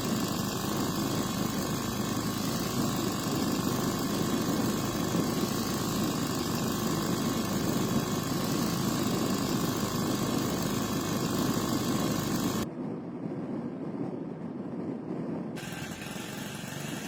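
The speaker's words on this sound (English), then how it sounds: "In this case, he made a propeller for his motorbike." A motorbike engine drives a homemade propeller, running as a continuous, even droning roar with a whirring edge. The sound is steady and near, and it dips briefly in loudness late on before resuming, with no talk over it.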